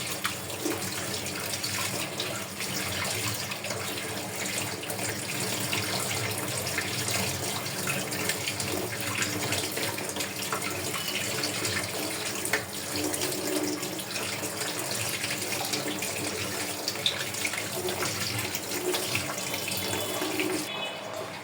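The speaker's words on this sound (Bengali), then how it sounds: "ছাঁকনি দিয়ে তারপর ভালো মতন ধুয়ে নেবেন দেখতে পাচ্ছেন কীভাবে ছাঁকনি দিয়ে ধুয়ে নিচ্ছে" Potatoes washed in a sieve under a running kitchen tap, a continuous steady rush of water that stays even and fairly close for the whole stretch, with no talking.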